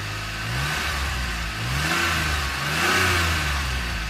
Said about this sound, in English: It's got an engine startup here, or at least an engine running video.